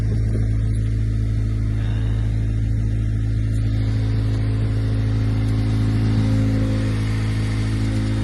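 An Acura RSX car engine runs steadily with a deep, continuous mid-frequency hum and a slight rise in revs toward the end, close and loud with no voices.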